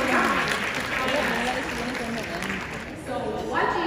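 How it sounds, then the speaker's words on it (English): Audience applause at a business kickoff meeting, a crowd clapping steadily and fairly loud for several seconds, with a voice speaking over the clapping. "Give them a round of applause."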